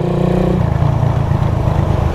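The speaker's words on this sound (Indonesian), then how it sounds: "Gue sebenarnya malah senengan sebenarnya suara knalpot asli ya." A Suzuki Satria FU 150 with its stock exhaust runs loud and close, its engine thrumming in a deep, steady pulse that shifts pitch slightly as the revs change, with no talk.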